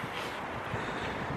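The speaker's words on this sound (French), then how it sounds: "il y a beaucoup de vent" Wind blows steadily at Saint-Cloud park near Paris, a continuous broadband rush buffeting the microphone throughout.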